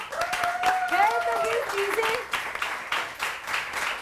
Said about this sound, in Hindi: एंड अगेन आपके लिए बहुत तालियां